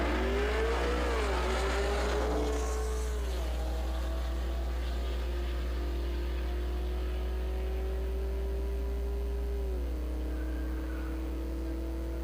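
A widebody Dodge Challenger Hellcat launches down a drag strip at a grudge racing event, its engine roaring loudly and rising in pitch, with dips at each gear change and a long sustained wail.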